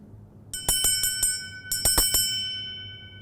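A silver council bell, a gift from Queen Elizabeth II for a tercentenary, rings close by in two bursts of several sharp strikes that leave bright sustained tones decaying afterward.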